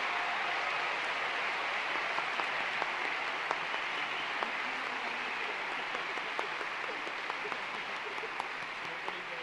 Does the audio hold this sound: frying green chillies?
no